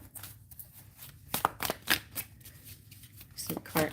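Tarot cards are shuffled by hand in quick, crisp riffling bursts, close and fairly quiet, separated by short pauses against a soft background hum.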